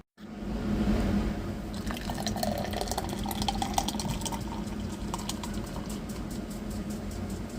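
Pepsi Nitro soda poured hard from a can gushes into a glass with a steady liquid rush and fizzing crackle, fairly close and lasting several seconds.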